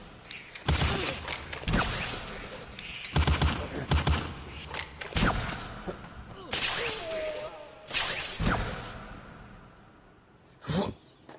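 Staccato bursts of gunfire effects punctuate a short comedic skit, loud rapid volleys recurring in several clusters with whooshes between them and no talking.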